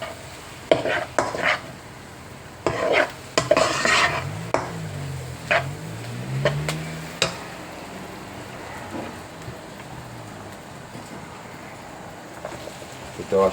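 Onion, garlic and curry leaves fry in oil for a Malaysian curry puff filling, a low crackling sizzle under repeated scraping spoon strokes that cluster early and thin out later, with a brief low hum partway through.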